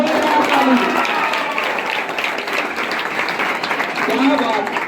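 Applause from students at a school science and math club quiz competition for a correct answer, a continuous dense clapping crowd lasting the whole moment, with voices mixed underneath.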